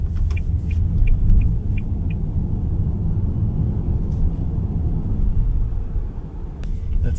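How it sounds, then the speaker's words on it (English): Steady low road rumble fills the cabin of a 2026 Toyota Urban Cruiser GLX battery-electric car driving at speed, a continuous broadband drone with faint tyre hiss and occasional soft ticks, no voices. "Road noise isn't as intrusive when you get into higher speeds"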